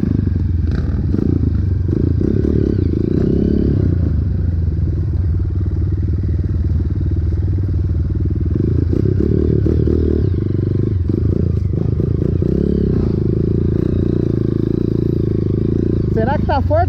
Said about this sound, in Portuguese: Será que tá forte a motinha, João?